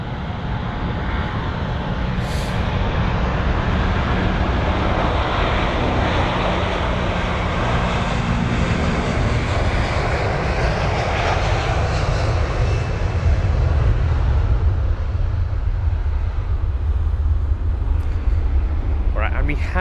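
Emirates Boeing 777 freighter taxiing at London Heathrow toward runway 27 right, a loud sustained engine rumble and whine, steady for most of the span before easing slightly near the end, with a voice speaking over it.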